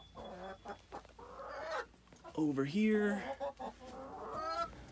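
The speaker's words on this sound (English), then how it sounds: "She's one of our newer chickens." Backyard hens, including a newer Americana that lays blue eggs, cluck and call close by in varied bursts with a brief voice speaking among them.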